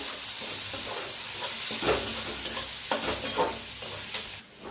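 Turmeric, red chilli, green chilli and coriander powder stirred into a frying mixture in a pan, a close steady sizzle broken by repeated scraping stirs of a spoon, with no talking.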